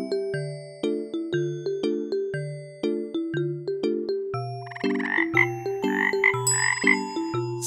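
A cartoonish frog croaks again and again in a bouncy, regular rhythm, with bright tinkling, chime-like notes joining partway through, loud and close with no speech.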